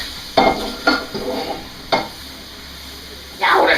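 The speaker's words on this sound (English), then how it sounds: "I'm going to clean this pan real quick." A hot crab-cake pan hisses in short loud bursts as it is wiped and scrubbed clean, with a few quick scraping strokes and pauses between them, then a final sizzle as it goes back on the heat.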